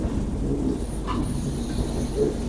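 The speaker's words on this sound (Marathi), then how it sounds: "आता आपली ट्रेन महालक्ष्मी स्टेशनला क्रॉस करते।" A train rumbles steadily past Mahalaxmi station in Mumbai, a dense, continuous low roar heard from on board with faint rattles and a brief higher squeal in the middle.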